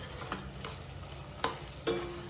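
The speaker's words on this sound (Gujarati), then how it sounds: "તો હવે છે ને ઉપરથી આપણે નાખવાનું છે આ મસાલો. તો બધું સરસ મિક્સ કરી લેવાનું છે." Spice masala being stirred into food frying in a pan, with a steady sizzle under a few scraping stirs and two sharper clanks of the utensil near the end; no talking.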